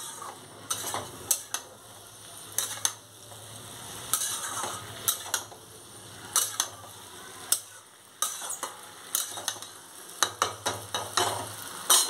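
Mixed vegetables with prawns fry in spices in a pan, a low steady sizzle broken by frequent spoon scrapes and clinks against the metal, close up and with no talk.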